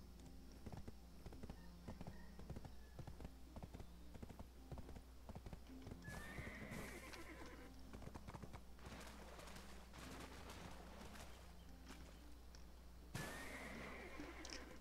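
Horse hooves clip-clop steadily in the video game Black Desert, a brisk, even rhythm of ridden hoofbeats with a soft whinny and ambient bird calls in the background.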